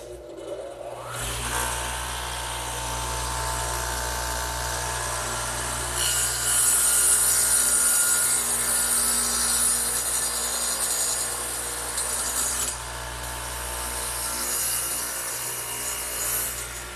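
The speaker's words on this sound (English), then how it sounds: "I'm going to do that to this piece right here over on the radial arm saw, which again has the dado head in it." A radial arm saw fitted with a dado head cuts a wide dado into a vertical wooden trestle table piece, giving a steady loud motor drone with a harsher, louder cutting roar in the middle, no talking.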